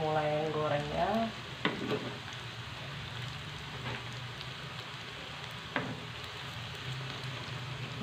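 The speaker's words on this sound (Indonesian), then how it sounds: "Sekarang kita mulai menggorengnya ya teman-teman." Round tempeh perkedel balls fry in plenty of hot oil with a steady, dense sizzle and occasional soft clinks of stirring. A brief voice is heard at the start.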